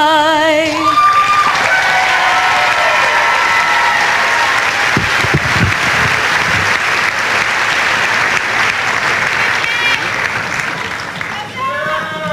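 A commencement crowd applauds and cheers, with whoops rising over dense clapping that swells and holds for several seconds before fading. A sung or spoken passage briefly overlaps the start and end.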